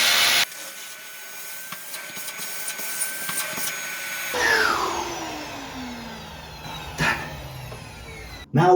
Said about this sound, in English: you catch it with the vacuum cleaner